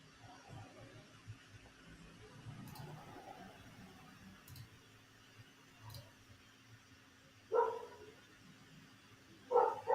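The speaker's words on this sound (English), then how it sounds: "Whose dog is that?" A dog barks a few times in the distance outdoors, faint single woofs spaced out, the last two louder and sharper, over quiet background hum.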